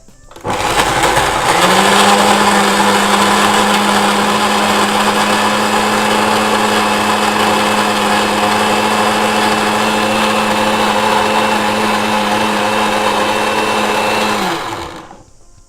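A blender runs continuously for about thirteen seconds, mixing mulberry ice cream ingredients, a loud steady motor whine from start to finish with no talking over it.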